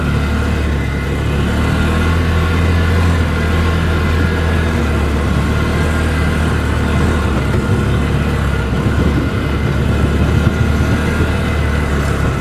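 A side-by-side UTV engine runs smoothly while driving, a loud continuous low drone with steady rumble and no voices.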